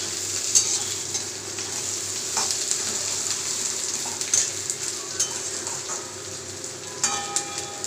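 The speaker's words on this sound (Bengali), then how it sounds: "তো এটা আমি ভাজতে দিলাম, একটু কিছুক্ষণ ভাজা হয়ে যাক, পেঁয়াজটা হালকা লাল করে" Chopped onions fry in oil in a pan for muri ghonto, giving a steady close sizzle throughout with a few light clicks and scrapes of stirring near the end.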